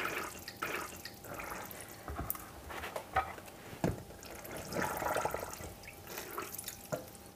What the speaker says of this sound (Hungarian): Ezeket akkor kicsavarom, jó, kinyomkodom belőle a vizet.